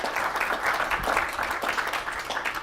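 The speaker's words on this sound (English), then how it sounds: "Can I have a round of applause?" A conference audience applauds steadily and loudly throughout, a dense wash of many hands clapping close by.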